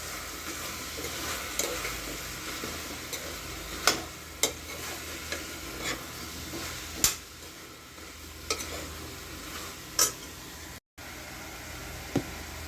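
Drumsticks being sautéed and tossed in a pan for a drumstick kurma, a soft steady sizzle with occasional stirring clicks and scrapes, moderately faint with no talking.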